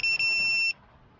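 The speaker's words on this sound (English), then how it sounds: "90 decibel buzzer" GPS lost-drone alarm buzzer rated at 90 decibels, fitted to a quadcopter, sounding as two loud shrill beeps, a brief one followed by a longer one, then cutting off to quiet.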